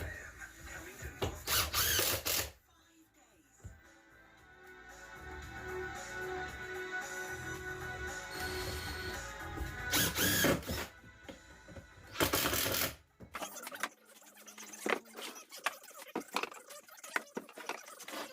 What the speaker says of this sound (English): And now back to a ton of sanding.